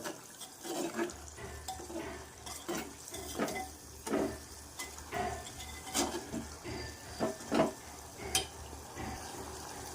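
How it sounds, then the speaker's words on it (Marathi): Drumstick (moringa) pods sizzle in hot oil in a pan, a steady close crackle broken by frequent sharp pops and spatters, with a low hum running underneath and no voices. "शेंगाही छानपैकी फ्राय झाले असतील आपण बघूया बघू शकता"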